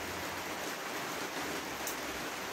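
Steady rain drums on a cabin roof, a dense, even hiss of drops that fills the whole clip without pause.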